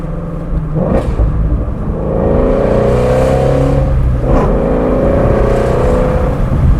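A Shelby GT350R's V8 engine revs loudly from inside the car with the windows down, climbing in pitch twice with a brief drop between pulls as gears change at 4,000 RPM, rumbling close and alone.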